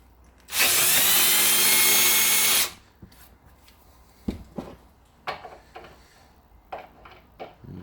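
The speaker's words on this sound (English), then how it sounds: "I'm thinking I'm going to have to get a drill bit out." A loud power drill whirs steadily for about two seconds, then stops, followed by scattered clicks and knocks of handling tools, while fitting AN fittings on a 1956 Volkswagen Beetle.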